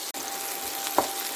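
Onion, garlic and capsicum fry gently in oil over low induction heat, giving a soft, steady sizzle with a faint clink near the middle, no voices.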